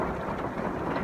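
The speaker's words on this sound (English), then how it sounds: "It's raining pretty hard" Heavy rain pours steadily at night outside a parked van in a forest, a dense unbroken hiss with no voices.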